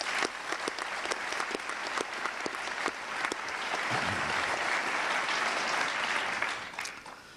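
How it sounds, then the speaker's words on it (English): A university forum audience applauds an organizing group at the University of Richmond in 1999, with sustained clapping from a large crowd that swells midway, holds full and loud, then tapers off near the close. "Let's applaud this group."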